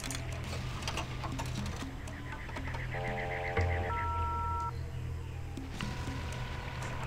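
Phone booth dialing in the video game Serious Sam HD: steady tonal beeps and tick-like tones sit over a constant game hum and background effects, moderately loud throughout.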